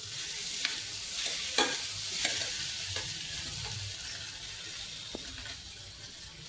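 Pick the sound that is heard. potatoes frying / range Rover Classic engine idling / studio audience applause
potatoes frying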